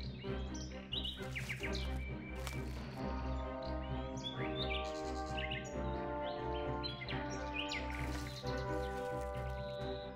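Sparrows chirping in quick, overlapping bursts of bright tweets, fairly close and busy, with a low steady hum underneath.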